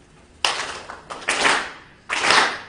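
An audience at an academic research forum claps in a few bursts separated by short pauses, loud and close, with a softer single clap between them and no talk.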